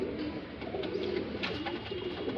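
Kundedar pigeons of the Hardoi breed coo steadily close by, a low burbling murmur that runs unbroken under a noisy background.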